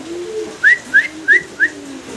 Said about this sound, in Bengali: দেখতে পাচ্ছেন চমৎকার এক জোড়া কবুতর, হাই ফ্লার কবুতর।